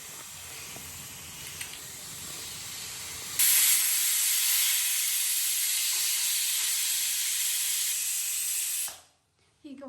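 A pressure cooker on the stove vents a loud, steady hiss of steam for about five seconds as it whistles while palak dal cooks, rising abruptly and then cutting off sharply, with softer kitchen noise before it.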